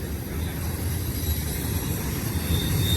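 A BNSF intermodal freight train rolls past on the tracks at Cajon Pass, California, with a loud, sustained rumble of wheels and cars, thick broadband roar and occasional wheel squeal, steady throughout.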